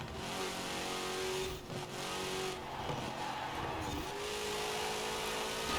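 A Porsche race car in Forza Horizon roars at high revs throughout, its engine pitch rising and dropping with gear changes and a brief tire squeal, loud and close, with no talking.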